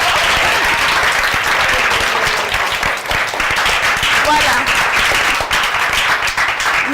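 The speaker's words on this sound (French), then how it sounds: "On applaudit très fort" Loud, dense applause from a church congregation right after a worship song, sustained clapping filling the whole stretch with a brief spoken word on top.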